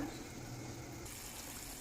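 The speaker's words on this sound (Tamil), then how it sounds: "இந்த மாதிரி குழம்பு நல்லா கொதிச்சு வரணுங்க" Fish curry simmering in a clay pot, a faint, steady sizzling and bubbling with no talk.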